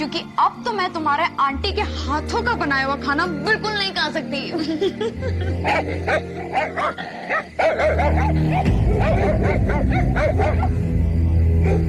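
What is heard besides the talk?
many dogs barking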